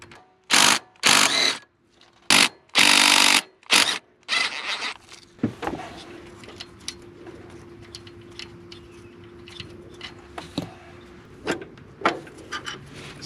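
Bolts come off a 2019 Nissan Titan high-pressure fuel pump in several loud bursts of ratcheting, followed by quieter clicks and scrapes of tools over a faint steady hum.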